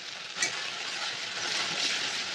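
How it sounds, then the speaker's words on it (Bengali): Ginger sizzles in hot oil in a pan while ghugni is being cooked, giving a steady, close hiss of frying throughout with a brief louder crackle near the start. "আদাটা দিয়ে একটু ভালো করে ভেজে নেব।"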